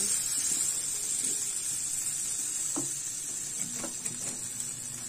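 Spaghetti pasta is stirred into sauce in a pan, giving a low, continuous sizzle with a steady hiss and a few light scrapes and clicks from the stirring.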